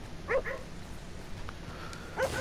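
A dog barks in the video game Red Dead Redemption 2 near a fisherman's house, giving a couple of quick yips early and another short bark near the end over quiet ambient game sound.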